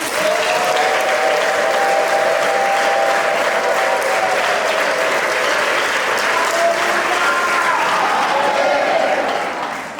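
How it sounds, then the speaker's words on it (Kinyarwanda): A church congregation applauds a choir performance with loud, sustained clapping. A steady wash of hands fills the space, with no break, and a faint tone drifts through it before the clapping fades at the end. "Mumere Imana amashyi mwumvise."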